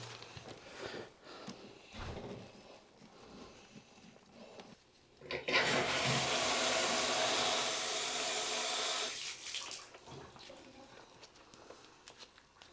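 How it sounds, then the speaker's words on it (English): Water rushes steadily into an outhouse toilet for a few seconds as the supply is turned back on during a repair, loud and close, surrounded by quieter handling noises before and after. "so they're turning the water on"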